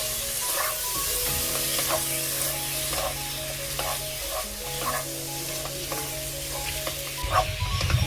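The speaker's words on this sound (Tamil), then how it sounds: "நல்லா மசாலாலாம் 4 பக்கம் பரவுற மாதிரி கலந்து விட்டுடுவோம்" Chicken frying with masala while it is stirred, giving a close, steady sizzle with repeated scraping strokes of the spoon and a faint hum underneath.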